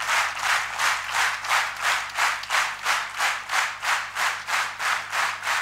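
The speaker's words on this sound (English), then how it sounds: "So give a big clap to our defense forces" Audience clapping in unison at an institute event honouring defense forces, a steady rhythmic beat of about three claps per second from a crowd, loud and even throughout.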